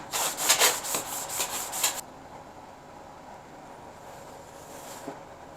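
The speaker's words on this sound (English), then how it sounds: "so now that that sanding is done" A box fan being restored gets sanded by hand in quick, rhythmic rasping strokes, about seven in a row, which then stop and leave quiet room tone.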